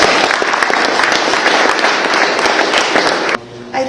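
A symposium audience applauding in thanks, a dense, loud wash of many hands clapping that runs steadily for over three seconds, then cuts off abruptly.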